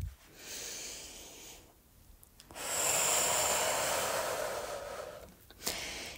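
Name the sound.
intense full breathing during a guided exercise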